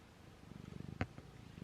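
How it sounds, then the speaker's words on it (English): A pet cat purrs close by, a soft rhythmic rumbling pulse repeating quickly, interrupted once by a brief sharper sound. "Are you purring?"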